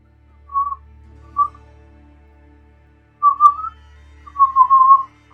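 Short whistled notes during a tabletop Dungeons & Dragons session. Four or five brief, clear tones come in two groups with a long quiet gap between them, over a low background hum.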